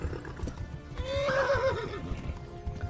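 A horse in the video game Kingdom Come whinnies once in a rising, shaky neigh, close and clear over soft hoof clops and low background noise.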